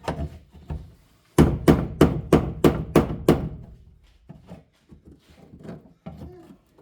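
Seven sharp, evenly spaced hammer blows ring out close and loud, followed by quieter clattering and knocking as tools are handled.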